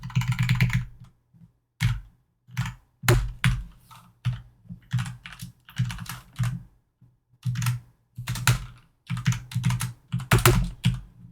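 Close computer keyboard typing comes in irregular bursts of clicky keystrokes with short pauses between runs, crisp and fairly loud against a quiet background.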